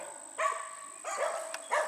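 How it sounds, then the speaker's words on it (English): Playing dogs bark in three short, lively bursts with yips in between, close by over a steady high-pitched background tone from a running chipper. "my dogs are playing. You can kind of ignore it."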